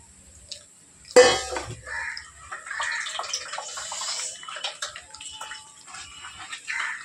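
Soaked tamarind is squeezed by hand and strained in water, giving soft wet squelching and sloshing sounds after a brief splash, close and moderately loud with no talking.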